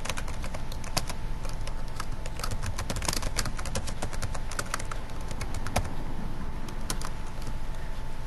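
Rapid typing on a computer keyboard while entering figures into an Excel spreadsheet, a dense run of close, crisp key clicks with brief pauses, no talking.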